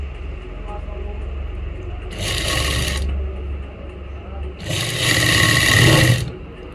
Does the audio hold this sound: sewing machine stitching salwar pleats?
yes